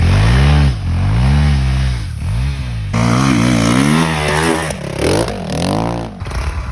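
A motorcycle engine revs hard up close as the throttle is opened, its pitch surging and falling in several loud, uneven swells with a rough mechanical clatter.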